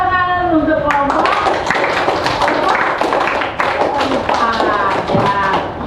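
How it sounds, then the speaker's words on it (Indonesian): Students clapping for a group in a classroom, brisk uneven hand claps with thumps and taps, mixed with children's voices and talk throughout. "Oke, tepuk tangan untuk kelompok"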